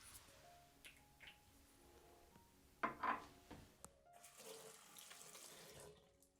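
Tap water runs briefly at a sink while facial serum is mixed with water for a gua sha massage, a short close splash amid quiet room tone.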